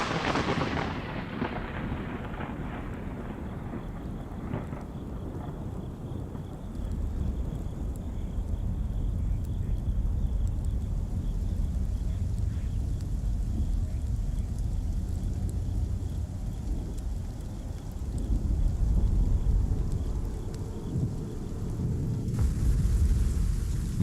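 A desert thunderstorm rolls on with a continuous deep rumble of thunder and a heavy wash of rain, swelling louder toward the end.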